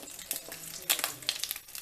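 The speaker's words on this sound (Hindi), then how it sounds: "ऑयल डाल के गरम करके रखा है, उसमें हम शिमला मिर्च रखेंगे" Capsicum laid into hot oil in a pan over a low flame crackles and sizzles in irregular bursts, with crinkly spitting pops throughout and no talk.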